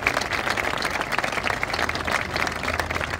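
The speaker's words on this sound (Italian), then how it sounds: "e un altro grande applauso anche per questo" Audience applause at an outdoor concert in a town's Piazza Duomo, a dense, steady clapping from a crowd lasting the whole stretch without pause.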